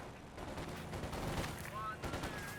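Rapid bursts of gunfire from a Company of Heroes 2 2v2 battle crackle continuously at mid distance, dense and overlapping, with a voice talking over the shooting.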